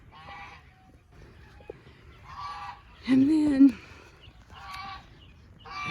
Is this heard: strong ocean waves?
no